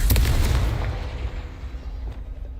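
Confringo blast spell from a Harry Potter video game, a single deep booming explosion with a sharp crackling onset that rumbles and fades over about two seconds.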